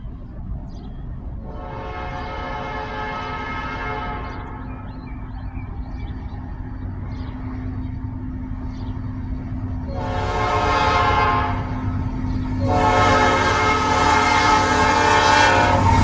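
Norfolk Southern NS310 freight train passing, with a steady low rumble of rolling cars throughout and loud multi-tone horn blasts sounding twice, the second longer and stronger as it nears.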